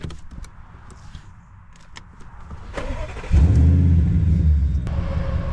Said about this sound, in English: So let's start the engine.